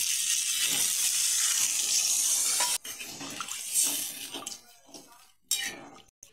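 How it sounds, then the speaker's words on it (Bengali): Water poured into a cooking pot of bitter gourd and potato curry, a loud steady splashing rush that stops abruptly, followed by softer bubbling, clinks and a short final splash. "এখন আমি পরিমাণ মতন জল দেব।"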